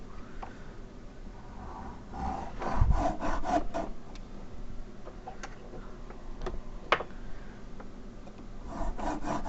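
A thick carbide blade cuts into wood while a wooden glidebait is being made, giving uneven rasping strokes and scraping rubs, closely miked with quiet pauses between bursts.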